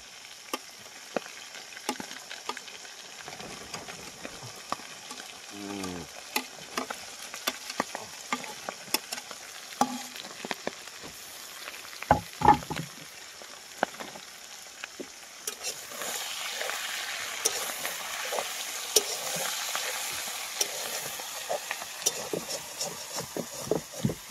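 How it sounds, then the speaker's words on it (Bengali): Onion, garlic and ginger paste is sautéed in a pan, with a crackling sizzle punctuated by sharp scrapes and clinks of stirring, growing hissier toward the end, with insects buzzing faintly nearby. "এটাও একসঙ্গে এবার একটু কষিয়ে নেবো"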